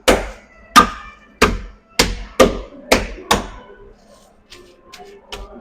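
Veal escalope in a plastic bag being pounded flat, seven firm, evenly spaced thuds at close range, then a few lighter taps at the end.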